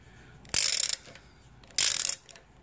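Two bursts of rapid ratchet clicking as a six-sided socket on an extension works engine bolts loose on a 2013-2015 Chevrolet Malibu LT 2.5L, each run lasting under half a second, close and crisp, with quiet pauses between.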